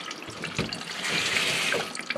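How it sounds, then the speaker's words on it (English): Water runs steadily from the supply into a newly installed toilet tank, a continuous close hiss and gurgle of filling that swells slightly midway and carries on for the whole span. "you can see there's water coming in"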